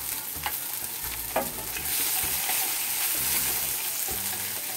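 Half-moon slices of onion fry in a pot for a Veracruz-style fish and shrimp broth, giving a steady close sizzle with scraping spoon strokes as they are stirred, with no voices.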